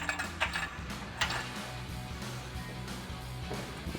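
An O-ring bolt being threaded a few turns into a Spike adjustable bed rack on a Ford F-250, giving close, faint metallic ticks and a couple of sharper clicks over a low steady background hum.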